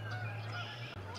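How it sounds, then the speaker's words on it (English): Geese honk repeatedly in the distance near a garden, a steady noisy chorus of calls over a low constant hum. "I don't know if you can hear all those geese in the background, but they are noisy."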